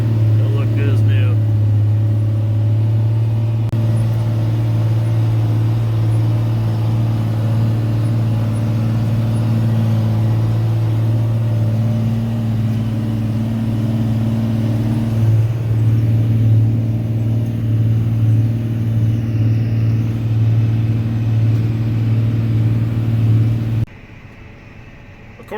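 A fully loaded self-propelled crop sprayer weighing 11,500 pounds drives along toward the field, its engine a steady close droning hum with tonal whine that cuts off near the end, while someone talks over it.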